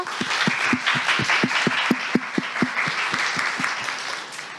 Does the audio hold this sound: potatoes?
no